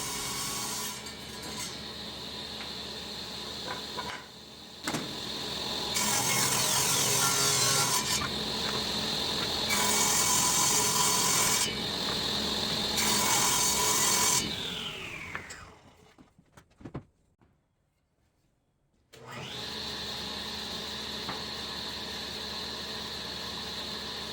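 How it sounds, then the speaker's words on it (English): Ash boards are ripped on a power saw for a shaker table, a loud whining cut that surges and drops as stock feeds through, then spins down to near silence before the motor hums again. "Now it's time to rip down the material for the sides, front, and back of the shaker table."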